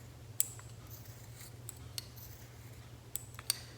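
Scissors snip around the edge of a handmade magnet, a few faint, sparse crisp clicks and cuts over a steady low hum.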